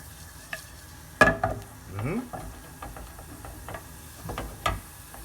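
Urad dal in hot olive oil on low-medium heat for coconut chutney gives a faint sizzle, with a few sharp clinks of a spoon against the pan and brief stirring scrapes in a quiet kitchen.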